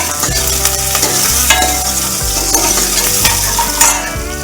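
Cumin seeds and chopped green chilies sizzle in hot oil for a yogurt vada dish, a close, steady crackling fry with scraping stirs of a utensil against the pan.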